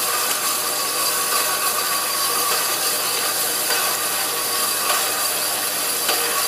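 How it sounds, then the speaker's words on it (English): A vertical band saw blade grinds through 4-inch diameter tubing, a loud, dense, continuous rasping hiss that holds steady with slight swells and fades, no voices. "So it's getting quieter again because it's cutting through the back side of the tubing"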